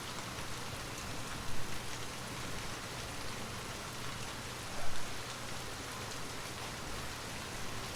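A steady downpour of rain hisses evenly and densely throughout, a constant wash of close drops with no voices or breaks.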